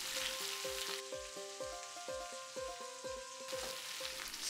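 Sliced potatoes and freshly grated coconut sizzle steadily in a pan, with a spatula stirring through the fry in a regular rhythm of soft scraping strokes under the continuous crackle.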